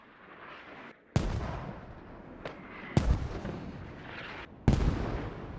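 Mortar rounds in the tactical shooter Squad, landing as three sharp, heavy booms spaced a couple of seconds apart over a steady rumble of distant battlefield noise.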